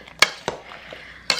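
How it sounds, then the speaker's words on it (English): A spoon stirs an apple cinnamon French toast mixture in a crockpot, giving three sharp, close clinks against the dish over a soft, quiet scraping in between. "let's get this all stirred up now that the apples are in"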